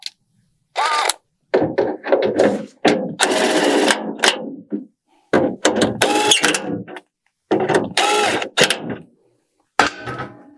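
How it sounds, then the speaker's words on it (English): Bolts are screwed down on a 2000 Chevrolet Silverado tailgate handle with a power tool, heard as loud close bursts of whirring and buzzing separated by short silences, no voices. "let's go ahead and screw down our bolts"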